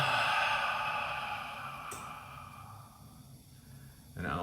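A slow, deep breath drawn in through the nose and let out through the mouth during a guided meditation, soft and close, with an airy exhale over a low background hum.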